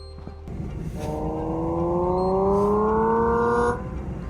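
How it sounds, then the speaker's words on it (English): A BYD electric car plays a simulated gasoline engine note, a steady rising synthetic revving hum with layered tones that climbs for a few seconds and then stops, heard fairly close. "I could change a setting so that this EV sounds as though it's running on gas."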